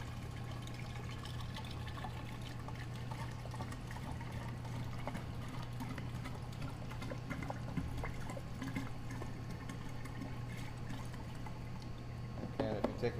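Salt water poured into the chlorine side of a water treatment unit makes a faint, steady trickle beneath a constant low hum.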